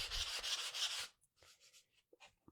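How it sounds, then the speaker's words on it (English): A sanding block is rubbed over a surface to smooth it for a transfer, giving a loud, close, gritty scrubbing of about a second, followed by a few lighter, shorter rubbing strokes and small taps. "we're sanding this down because we are going to apply a transfer over the top"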